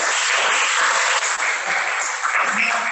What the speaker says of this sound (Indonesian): Yo, tepuk tangan kalau semuanya sudah